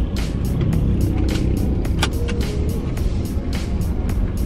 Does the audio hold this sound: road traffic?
yes